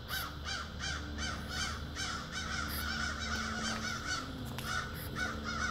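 Crows caw repeatedly by a river, a steady series of harsh calls close to the listener over a constant low outdoor rumble, with no talking.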